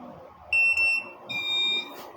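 A Bluetooth keyless motorcycle alarm buzzer sounds two shrill electronic beeps, a short first tone and a longer second one, loud and close against quiet background.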